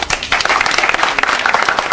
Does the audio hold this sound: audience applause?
yes